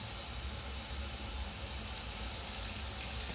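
Water runs steadily from a tap as a cup is rinsed, a continuous close hiss and splash with no pauses and no voices.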